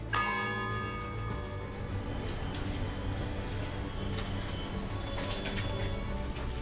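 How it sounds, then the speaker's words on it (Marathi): The clock bell of Rajabai Tower chimes with a struck, sustained ring, its tones slowly decaying while quieter bell strikes and faint ambient sound follow; no speech is heard. "दर 15 मिनिटांनी या घड्याळातून घंटानाद होतो।"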